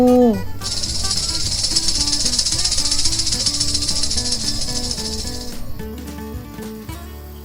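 A snake's sustained hiss runs steadily for about five seconds under background music, then stops abruptly.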